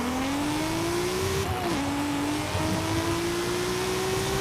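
A compact S1-class race car in Forza Horizon 5 accelerates hard, its engine note climbing steadily through gear changes with a brief dip partway, loud and continuous over road noise.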